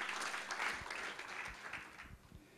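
A church congregation claps in a brief, moderate burst that fades toward the end, with a few low thumps underneath.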